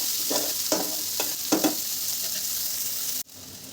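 Vegetables and a small chopped tomato stir-fried for chowmein in a hot pan, with a steady sizzle and several scraping stirs of the spatula, then a sudden drop to a quieter hiss near the end.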